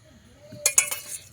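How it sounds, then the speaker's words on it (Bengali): A spoon clinks against a bowl while stirring two spoonfuls of white cooking oil with two spoonfuls of water for chitoi pitha rice batter; a few quick, close metallic taps in a short burst, no talking. "তেল আর জল মিশিয়ে নেব ভালো করে"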